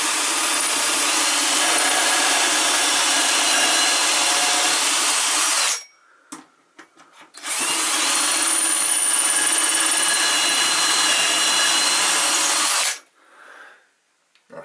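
A power drill bores into wood while building a custom media unit, running loud and steady for about six seconds, pausing briefly with a few knocks, then drilling again for another long stretch.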